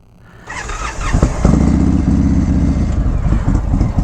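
Motorcycle pulling away down a small road in Southern California, engine opening up from a low rumble into a strong, close throttle growl that holds as the bike accelerates off.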